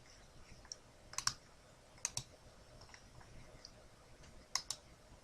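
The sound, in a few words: computer mouse clicking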